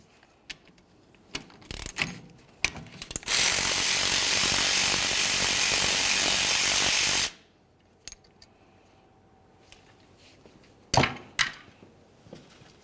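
Loosening a brake caliper bolt on a 2003-2011 Mercury Grand Marquis with a 14mm socket ratchet: scattered metallic clicks and clanks, a loud steady four-second burst of broadband noise, then a few more sharp taps.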